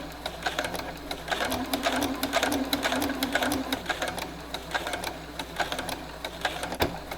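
Sewing machine set to a very short stitch, quilting a fall table runner, running in rapid bursts of needle chatter with brief pauses, close and fairly quiet, alone with no talk.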